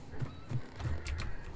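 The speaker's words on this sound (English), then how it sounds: "That's just me triggering that horse" A horse whinnies in the video game Hunt: Showdown, a short neigh with soft hoof clops and low rumbling game ambience, moderately loud and not far off, with no voices.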